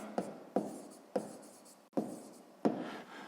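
A pen writes in a notebook with five short scratchy strokes, each one starting sharply and fading, spaced about half a second apart and recorded close up in a quiet room.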